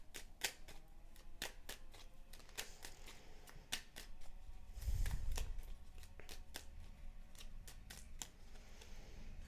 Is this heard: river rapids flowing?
no